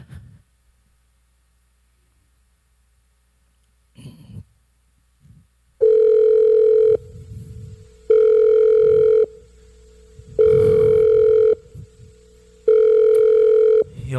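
Telephone ringback tone repeating four times at a steady rhythm, each long tone separated by a pause, heard alone on a call to a church member.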